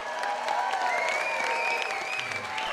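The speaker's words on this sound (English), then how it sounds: "please give a nice round of applause for Rosie Perez." Warm applause from a sizable audience, steady dense clapping with a few cheers rising above, continuous throughout.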